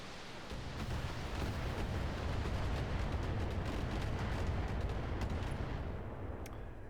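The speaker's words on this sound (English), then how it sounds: "That was a array of missiles. It looked like a lot more than 20 to me." A large salvo of missiles fires in the mech game Battletech, a dense, continuous rumbling roar of many overlapping launches that holds steady and then thins out at the end.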